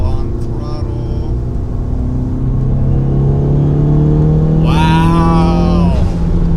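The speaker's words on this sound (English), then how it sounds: "Let's go a little on throttle." A tuned turbo Fiat 500 Abarth pulling on throttle, a steady low engine drone from inside the car that rises in pitch as it accelerates, with a brief rising rev near the end and talk over it.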